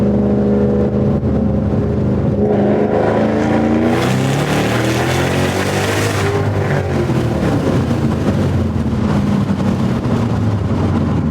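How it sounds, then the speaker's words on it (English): A supercharged Shelby GT500 Mustang makes a light second-gear pull, its engine roar rising loudly with a climbing whine before settling back to a steady rumble, heard up close from inside. "I'm just gonna do a baby pull in second gear to go ahead and make sure there's no belt slip."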